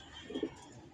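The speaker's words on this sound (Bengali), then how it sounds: "এই যে আমাদের চ্যাম্পিয়ন কবুতরটি মাশাআল্লাহ।" A champion racing pigeon at a three-side pigeon racing tournament final gives a short, soft coo, faint and brief against quiet background noise.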